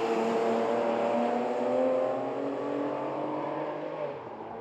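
A 1972 Ferrari 365 GTB4 Daytona cruises in fifth gear at about 2500 rpm, its engine a steady, loud, smooth drone with layered harmonic tones that eases slightly in the final second, with no voices.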